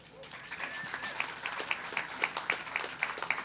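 An audience applauds at a 2019 commencement ceremony: steady clapping from a large crowd with sharp, evenly spaced claps standing out, a thin whistle rising briefly early on, and voices mixed in under the applause.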